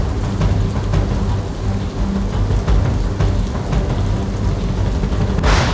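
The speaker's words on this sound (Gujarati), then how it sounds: "દસાડા તાલુકાના અનેક ગામોમાં ભારે વરસાદ" Heavy rain pours steadily in Dasada taluka villages, a dense loud wash of falling water with low rumbles of thunder underneath, continuous throughout with no voices.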